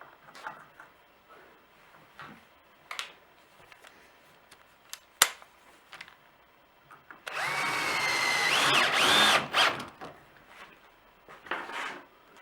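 A power drill whirs in one sustained burst of about three seconds, driving a fastener to fix a cut board onto a table saw cabinet, with faint clicks and handling knocks before and after.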